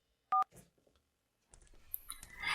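A telephone is dialed: a sharp DTMF keypad tone burst sounds near the start, followed by faint clicks and then a rising rustle of background activity.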